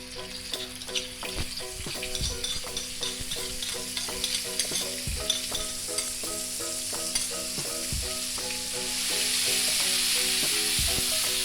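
Spice paste for spicy snapper-head gulai sizzles steadily in hot oil, with a spoon scraping and stirring the pan in a regular rhythm, the frying swelling louder toward the end.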